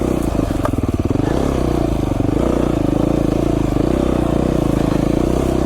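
A Beta 500 RR-S dirt bike engine chugs at low RPM on tight mountain switchback single track, a steady close throb that stays loud and continuous throughout, with some clatter from the ride.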